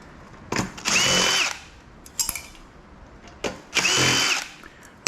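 A power drill backs screws out of a ceiling fan's metal cap in two short whirring bursts, each about a second long, with small clicks and handling noises between them and no speech.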